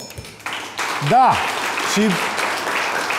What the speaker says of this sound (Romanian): aplauze și pentru el